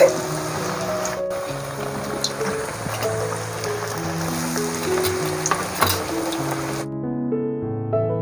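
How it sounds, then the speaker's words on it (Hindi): Potato cutlets frying in a pan crackle and sizzle steadily under loud background music that cuts off near the end, with no talking. "1 या 2 पीस डाल के फ्राई करेंगे।"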